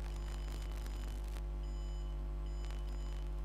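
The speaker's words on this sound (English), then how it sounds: "So I'll put my finger on, we should get a beep coming through." A cheap Arduino heart pulse sensor sounds thin, high electronic beeps in a repeating pulse-like pattern, each tone held briefly, over a loud, steady low electrical hum.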